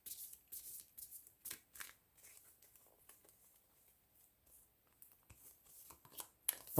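Tarot cards are shuffled and drawn, giving soft papery riffles, flicks and light taps in an uneven rhythm, close and quiet, with no talk.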